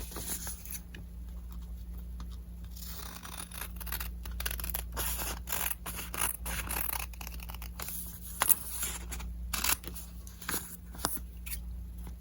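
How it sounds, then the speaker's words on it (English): Fabric scissors cut through a paper template up close, making crisp, irregular snips and rustles over a low steady hum, with no talking. "I'm using my fabric scissors to cut this."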